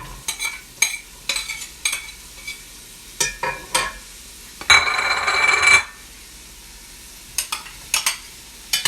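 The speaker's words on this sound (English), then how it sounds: "Add 1 tablespoon of oil. And I'm going to add in the onions and the green pepper." Chopped onions and green pepper hit a tablespoon of hot oil, letting out a loud, close sizzle burst lasting about a second, framed by clinking stirring strokes against the pan before and after.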